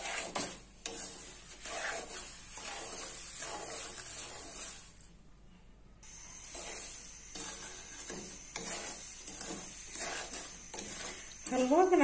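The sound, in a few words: sooji (semolina) frying and being stirred in oil for halwa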